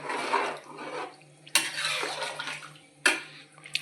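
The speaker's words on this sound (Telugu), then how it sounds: "కొంచెం బిర్యానీ మసాలా వేసుకుంటున్నామండి కలుపుకుందాం అలాగా" Biryani masala being stirred into prawns and water in a cooking pot: wet swishing and scraping strokes in three bursts, each starting with a sharp clink of the spoon against the metal, fairly close and moderately loud, with no talking.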